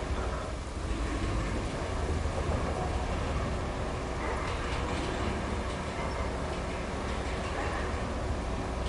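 Steady, dense hiss of heavy rain falling throughout a muddy construction map in the video game RoadCraft, broadband and unbroken with a low rumble beneath, no voices present.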